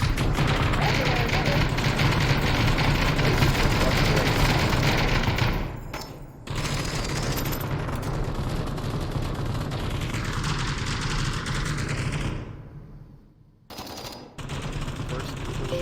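Heavy, continuous automatic gunfire in the VR shooter Onward during a competitive league match, rapid dense bursts that run for long stretches and drop out briefly a couple of times before resuming, loud and close.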